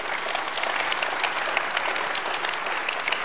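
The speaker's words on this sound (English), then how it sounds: "We have some applause for Bari." A room full of people applauds Bari Weiss in a dense, even roar of clapping that runs unbroken throughout, loud and close, with hardly any voices.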